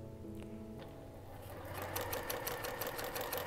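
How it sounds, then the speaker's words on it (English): A sewing machine stitches quilt squares together with a quarter-inch seam, a faint motor hum building into a quick steady run of needle clatter. "So I sew my squares together, 1/4 inch seam."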